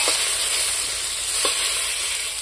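Tomatoes fry in a hot pan, giving a steady close sizzle with a couple of faint clicks from the utensil.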